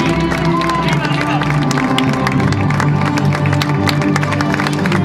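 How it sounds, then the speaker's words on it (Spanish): Audience applause fills an outdoor trophy presentation for the youth categories of the IV Carrera San Juan running race in Rota, with steady loud clapping and cheering crowd noise throughout. "El aplauso del público."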